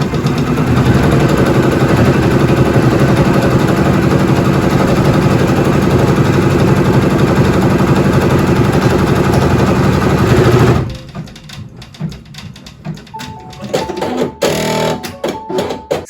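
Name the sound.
Brother embroidery machine stitching fabric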